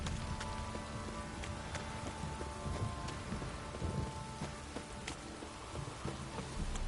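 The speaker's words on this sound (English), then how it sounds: "This downpour's a bastard, it is." A heavy downpour in the video game The Witcher 3: dense, steady rain beating on surfaces with low thunder rolling underneath, alone and without speech.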